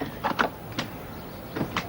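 A garden shed door opening amid faint outdoor ambience, with several soft scraping and creaking bursts spread across the moment, quiet and somewhat distant.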